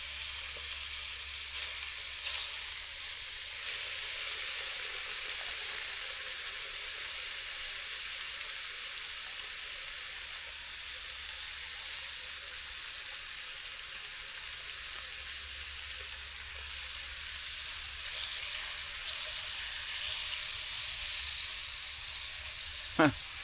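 Bacon sizzles steadily in a pan over a Trangia alcohol stove, a constant close crackling hiss that runs throughout, with a brief clatter near the end.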